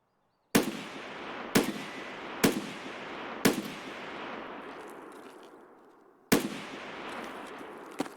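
Gunfire in Escape from Tarkov comes as five sharp, loud shots spaced about a second apart, with a longer pause before the last. Each crack rings out into a decaying echo.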